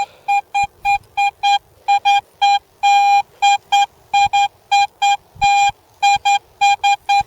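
Metal detector signalling a buried target in a ploughed field in Pas-de-Calais, a loud, clean electronic tone beeping in rapid regular pulses, some longer, repeating throughout with faint scuffing beneath.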